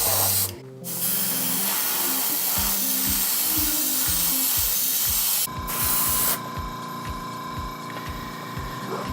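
A spray nozzle set wide mists varnish onto a Haunebu II scale model, a loud continuous hiss broken by short pauses, with a repeating low pulse from the compressor or pump beneath it, close to the listener.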